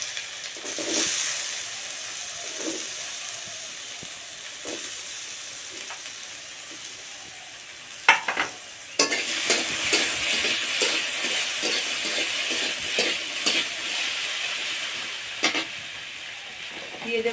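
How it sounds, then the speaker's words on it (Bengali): Potato pieces fry in hot oil for a vegetable breakfast dish, giving a steady broadband hiss and sizzle that runs throughout, with scattered sharper crackles and clicks and a louder burst of spattering partway through. "এগুলো ভেজে নেব। প্রথমে আলুটা দিয়ে দিচ্ছি।"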